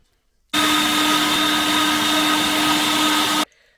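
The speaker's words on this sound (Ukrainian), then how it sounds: "ми також її пропустимо через м'ясорубку разом із смальцем" A meat grinder mincing cooled onion together with lard whirs in a loud, steady motor drone, starting abruptly, running evenly for about three seconds and then cutting off into silence.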